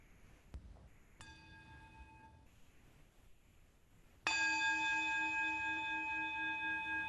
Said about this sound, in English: As we follow the sound of the bell into silence